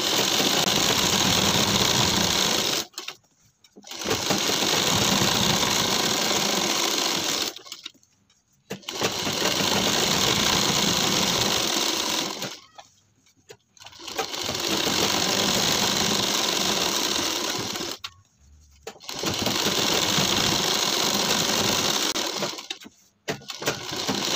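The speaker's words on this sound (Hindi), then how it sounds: "यहाँ पर लगाना है सिलाई तो यहाँ पर दो सिलाई लगाएंगे" An electric sewing machine runs in four long bursts of steady, loud whirring stitches, separated by short pauses, while elastic is stitched into a pajama waistband.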